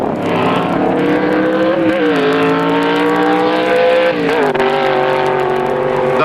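1960s drag racing cars, a gasser and an A Factory experimental machine, roar off the line with a loud, sustained engine howl that climbs in pitch as they accelerate, shifting partway through, heard close and alone.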